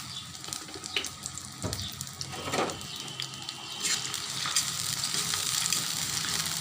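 Chopped green chillies, bay leaves, cardamom pods and a cinnamon stick frying in hot oil, a steady close sizzle broken by scraping stirs and a few sharp crackles, growing busier toward the end with no voices.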